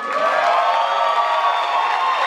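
Sustained audience cheering and applause fill a concert venue after a band's show, a steady loud wash of crowd noise with whoops, no clear speech.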